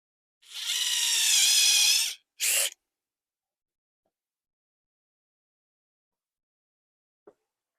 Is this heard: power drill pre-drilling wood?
yes